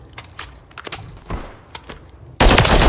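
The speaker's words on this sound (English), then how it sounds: "I'm giving y'all suppressive fire." Suppressive gunfire in a hardcore multiplayer shooter game: a few scattered, fairly quiet shots and impacts, then a sudden loud, dense burst of continuous fire near the end.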